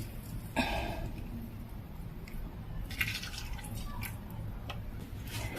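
Fresh lemon juice drips through a sieve as the seeds are strained out by hand. The faint, irregular patter and small drops sound close over a low steady background hum.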